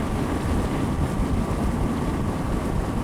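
Steady, loud wind roar while riding a Suzuki SV650 motorcycle on an open freeway behind a windscreen, a constant low buffeting rush with no break and no voice.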